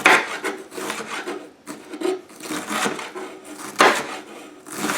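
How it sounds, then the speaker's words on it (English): A knife slices through a purple cabbage on a cutting board in a home kitchen, giving steady rasping, crunchy strokes that repeat in uneven bursts, close and fairly loud with no talking. "I'll just cut down the middle here, and then I'm just gonna cut down the side so it'll be really nice and thin"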